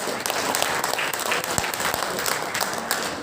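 An audience at the opening of a multipurpose hall applauds, dense continuous clapping filling the room with no voices on top.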